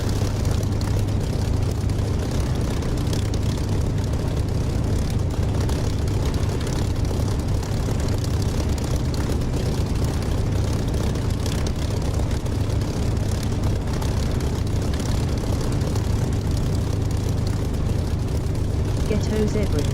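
Aircraft taking off in the DCS flight simulator game, a constant dense engine drone with strong low rumble throughout, with people talking over it.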